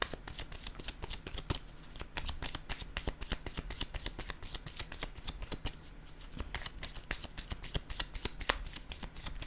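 A deck of tarot cards shuffled up close, a rapid run of crisp riffling flicks and snaps repeating steadily with no voices.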